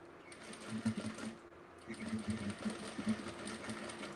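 A sewing machine stitches around a curved backpack gusset, its needle running in a steady, close hum that breaks off briefly midway and then resumes.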